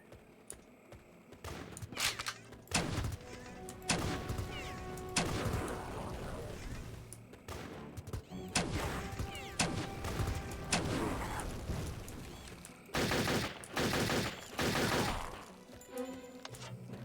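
Bursts of rapid machine gun fire from enemy gunners in Turok 3, coming in repeated volleys of varying length with brief lulls between, mixed with other game effects and clicks.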